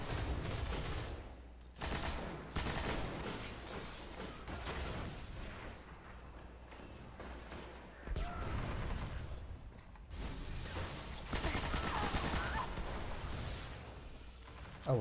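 A heavy gun fires in a first-person shooter game as bursts of rapid, loud shots, pausing briefly between volleys before starting again, with no speech over them.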